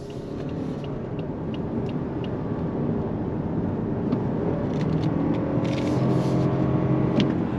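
A 2025 Lexus ES 300h Ultra hybrid midsize sedan accelerating under throttle in sport mode, a steady, loud low engine and road rumble heard from inside the cabin, building slightly and continuing without talk.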